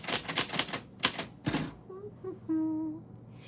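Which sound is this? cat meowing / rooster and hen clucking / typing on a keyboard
typing on a keyboard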